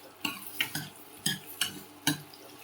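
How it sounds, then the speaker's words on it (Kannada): Onions frying in oil in a home kitchen pan, stirred with a utensil: five or six distinct scraping clatters about half a second apart over a soft sizzle, close and clear with no talk. "ನೆಕ್ಸ್ಟ್ ಆಮೇಲೆ ಫ್ರೈ ಮಾಡ್ತಾ ಇದ್ದೀನಿ"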